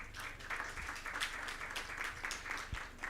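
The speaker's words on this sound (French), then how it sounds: "Je vous demande d'applaudir les évaluateurs" An audience applauds the evaluators at a science presentation session, a sustained patter of many hands clapping at moderate distance, fairly quiet and even throughout.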